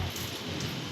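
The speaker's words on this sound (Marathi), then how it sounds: "बघा कसं पाऊस आलं इकडं आमच्या घरात" Rain coming into a house, a dense, steady hiss of falling drops, close and fairly loud, with no voices.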